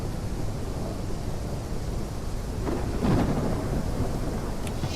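Rain and rolling thunder in the Gothic Unreal Remaster game, a steady broadband wash of rainfall with a low rumble swelling around the middle, no voices.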